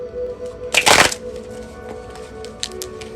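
A deck of cards is shuffled once in a quick riffle, a crisp fluttering burst lasting under half a second amid a quiet room hum, with faint ticks afterward.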